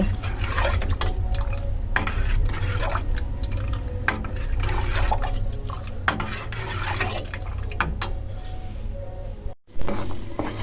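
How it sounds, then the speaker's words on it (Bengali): A pot of semolina cooked with milk and coconut bubbles and gurgles on the stove, a close, continuous wet simmer with small irregular pops and splutters. "এখন সুন্দর করে ফুটাই নেব"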